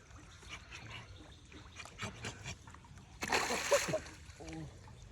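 A freshly caught fish thrashes and splashes in pond water, with a loud burst of splashing partway through, surrounded by scattered smaller splashes and dribbles, under people talking nearby.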